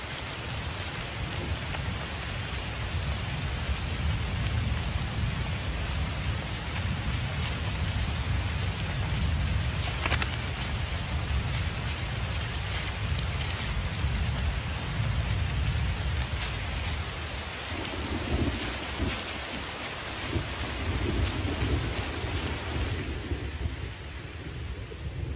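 Heavy rain pours down steadily in an open African savanna landscape, a dense continuous roar of downpour with a low rumble of thunder beneath, loud and unbroken throughout.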